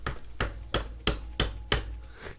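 A hammer taps on a wooden safe set on a table, six evenly spaced sharp knocks ringing close and loud, with no voices.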